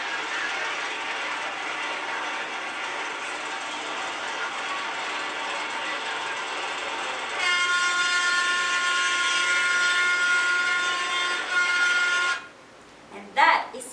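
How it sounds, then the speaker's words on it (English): A passing train's steady mechanical rumble and rattle with tonal squeal lines, louder and more tonal in the middle stretch, then cutting off abruptly near the end. "And that is the sound of the train."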